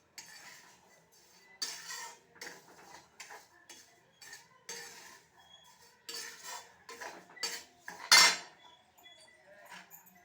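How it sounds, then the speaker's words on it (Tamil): Roasted semolina-sugar somas filling is scraped from a pan onto a plate, with quiet, close metallic clinks and scrapes of a spoon against cookware in irregular bursts. "இதை வந்து ஒரு தட்டில் மாற்றி ஆற வைக்கணும்."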